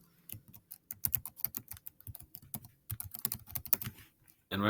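Fast, close clicking keystrokes on a computer keyboard as a school email address is entered, with irregular bursts of taps over a few seconds and no talking.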